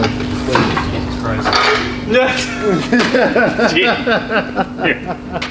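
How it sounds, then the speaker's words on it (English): A broom is used to knock at the bolts of a 4.8 LS truck engine, making a run of sharp metallic clanks and rattles with voices talking over and around the hits. "knock it out with the broom"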